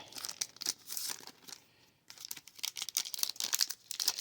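The window-box packaging of a dice board game is pulled open up close: crinkly plastic and cardboard tearing in bursts, a brief pause, then more rustling and crackling handling.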